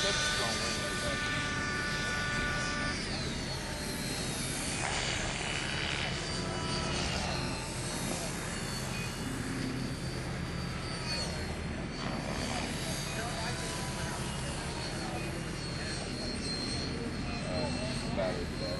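Blade mCP X RC helicopter flying on a very windy afternoon, a steady high motor and rotor whine buffeted by gusty wind noise throughout, with people talking nearby.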